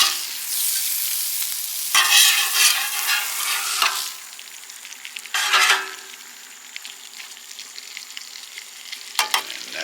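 Shrimp fry in butter in a pan, a bright, steady sizzle punctuated by several louder bursts as the pieces are stirred and turned, close up with no voices.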